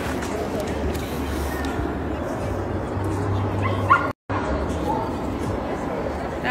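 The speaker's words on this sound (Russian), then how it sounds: "Все молоденькие тут собачки." Young shelter dogs bark, yip and whimper in short bursts close by, with a low steady hum beneath and brief clatter midway; a person talks quietly among the dogs.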